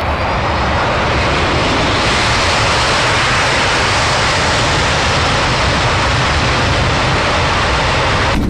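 Engines of an Avianca Boeing 747 airliner at takeoff power, a loud, steady, broadband roar that fills the whole stretch without a break.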